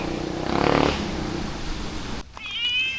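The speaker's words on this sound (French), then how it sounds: "Je suis poursuivie par des chats." Stray cats meow nearby on a street in Batukaras, Indonesia: a drawn-out cry at moderate volume, then a short, higher meow near the end, with no talking.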